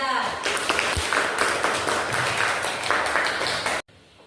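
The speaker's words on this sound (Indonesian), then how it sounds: "Beri tepuk tangan untuk kelompok 3." A classroom of students applauds a discussion group, brisk, lively clapping with some voices mixed in, lasting a few seconds before cutting off abruptly.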